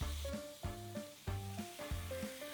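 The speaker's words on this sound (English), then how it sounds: "Adding some olive oil, massaging it into oblivion, and now onto the grill it goes" Turkey fillets coated in garlic and olive oil sizzle on a hot grill, a steady crackle that plays under a melodic backing tune with regular note onsets.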